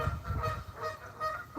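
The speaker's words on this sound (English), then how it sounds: "They're the loudest birds I think I've ever known." Outdoors on a windy Florida morning, birds give honking, goose-like calls, a few repeated cries rising over low wind rumble, moderately loud and fairly near, with no voices.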